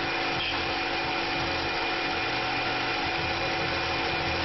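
A Tormach PCNC 1100 CNC mill drills a hole, giving a steady, even machine whir with a constant high-pitched whine throughout, loud and alone with no pauses.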